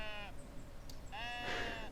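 Sheep in a peaceful video game meadow give two clear, wavering bleats, one short and one longer, close and prominent over soft ambient background.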